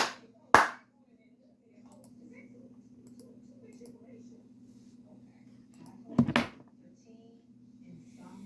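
Hands clap along to a song, two sharp separate claps several seconds apart over a low steady hum, with near-silence between them.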